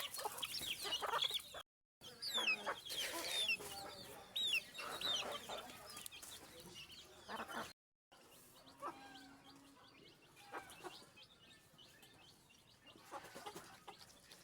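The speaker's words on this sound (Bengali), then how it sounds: "মুরগিগুলো এখন আমার খাতি দেওয়ার সময় হয়ে গেছে, এই জন্য আমার পিছে পিছে বেড়াচ্ছে।" Desi hens cluck and squawk close by on a backyard farm, a busy overlapping chorus of short calls and chatter with brief gaps, fairly quiet overall and with no talking.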